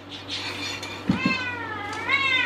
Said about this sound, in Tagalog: mauna pang kakain yung pusa ko sa akin